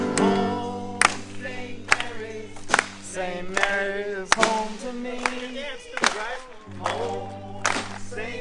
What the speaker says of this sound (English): Clap along.